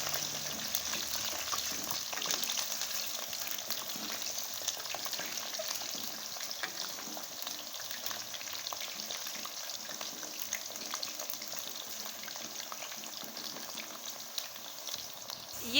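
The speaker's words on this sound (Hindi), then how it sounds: "ये देखें कि आलू जो हैं साथ साथ फ्राई होते जा रहे हैं" Potatoes frying and being stirred in a karahi of hot oil, a steady, even sizzle with faint scraping and bubbling that continues throughout without talk.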